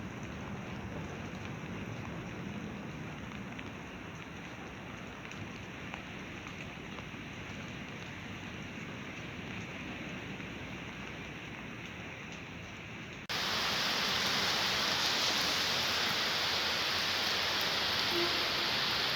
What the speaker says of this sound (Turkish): Bugün hava bayağı yağıyor arkadaşlar.